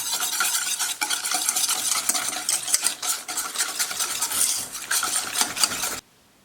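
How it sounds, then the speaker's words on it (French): Rapid, continuous whisking of egg yolks and sugar scrapes and rattles inside a metal saucepan for several seconds, then stops abruptly. "et on fouette pendant environ 30 secondes"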